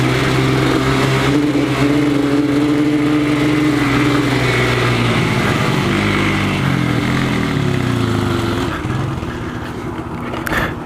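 A Yamaha Banshee 350 two-stroke ATV engine revs loud and steady close by, its buzzing pitch climbing and falling as it is held high, with no talk over it.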